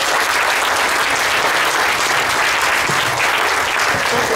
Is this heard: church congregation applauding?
yes